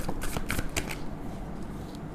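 Tarot cards shuffled by hand in a quick burst of crisp riffling slaps, loudest in the first second, then tapering into softer shuffling, close and alone.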